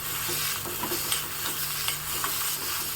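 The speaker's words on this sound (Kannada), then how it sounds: "ಚೆನ್ನಾಗಿ ಬಾಡಿಸ್ಕೋಬೇಕು" Green chillies, either fresh or dried, sautéed in a pan while a spoon stirs them, for a Mysore Brahmin-style chutney. A steady close sizzle runs with faint scraping stir strokes, and no voices are heard.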